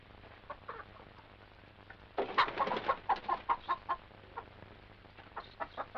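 Chickens cluck nearby in a burst of quick, rhythmic clucks that picks up partway through and keeps going in short pulses over a quiet background, with no one talking.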